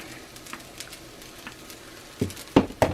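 Chicken fried rice stir-fried with oil in a wok, a low steady sizzle that swells into a few louder bursts of frying near the end, with no talking.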